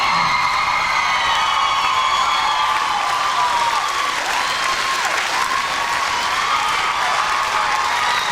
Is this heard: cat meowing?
no